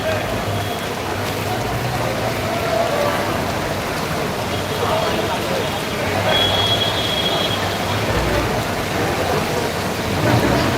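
Steady heavy cloudburst rain pours throughout in Ghatkopar, Mumbai, with a dense, continuous hiss, broad and unbroken, while faint voices murmur in the background.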